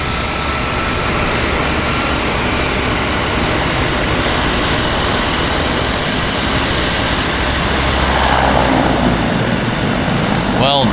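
Steady broadband roar of a floatplane landing at Vancouver Harbour, loud and continuous throughout with a slight swell near the end, no talk.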